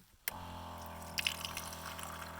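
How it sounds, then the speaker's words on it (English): Water pours onto a metal detector coil in a sudden, close splash that settles into a steady running trickle with a few bright drips. "take a little bit of water, put it on the coil, give it a bit of a scrub"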